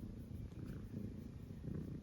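A cat purrs steadily close by, a low continuous rumbling with soft rhythmic pulses, alone with no talking over it.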